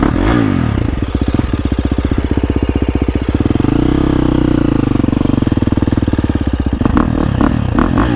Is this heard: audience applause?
no